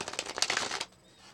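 Tarot cards riffle-shuffled in a quick burst of papery flutters for under a second, close and moderately loud, then fading to near silence.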